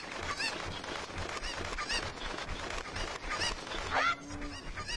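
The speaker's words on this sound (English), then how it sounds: "Get all the chickens here," Chickens cluck and squawk in Kakariko Village in The Legend of Zelda: Ocarina of Time, with several short, bright calls scattered over a steady bed of game ambience and a louder squawk near the end.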